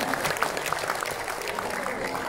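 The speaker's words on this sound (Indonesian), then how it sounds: "Kita beri tepuk tangan sekali lagi untuk Pak Kristomo." Moderate applause from an audience at a paralegal academy event in Jakarta, scattered clapping with distinct individual claps, fairly even throughout the short stretch.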